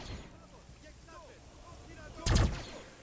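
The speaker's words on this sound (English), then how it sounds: "What was that explosion to the east? Was that a settlement going down?" A settlement blows up in a Star Wars strategy game on Honoghr with the Zann Consortium: a single loud, sharp blast rises out of quieter game background near the end, with brief talk around it.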